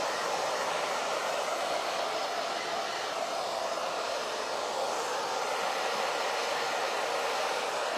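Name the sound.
hair dryer drying Mod Podge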